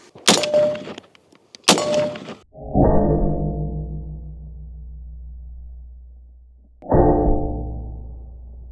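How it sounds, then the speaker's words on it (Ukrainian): Gunshots striking American armor plate: two sharp cracking impacts close together, then two loud metallic clangs that ring out and slowly fade, with silence between. "Спробуємо зараз по американській плитці постріляти."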